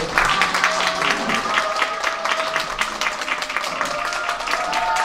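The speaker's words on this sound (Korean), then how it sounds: "기쁜 마음으로 박수 치겠습니다" Audience applause at a children's choir concert following a cake cutting, steady clapping filling the room for several seconds with faint voices and a few cheers mixed in.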